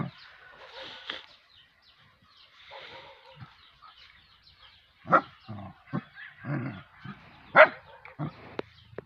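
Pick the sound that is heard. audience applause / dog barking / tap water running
dog barking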